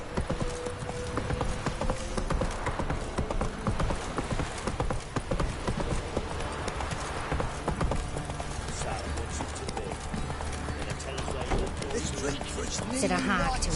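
Horse hooves clip-clop steadily through a PS4 game as a horse is ridden, with a voice talking over them and continuous game music and ambience filling the background.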